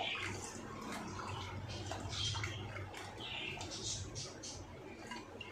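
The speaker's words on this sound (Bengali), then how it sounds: "এবার আমি এই আলুটাকে পরিষ্কার ভালো জলে ভালো করে ধুয়ে নেব।" Potatoes being washed by hand in clean water: faint, irregular splashing and sloshing that comes in soft bursts throughout.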